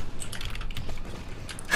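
Rapid typing on a computer keyboard in a fast, uneven flurry of close clicks, heard alone with no voices.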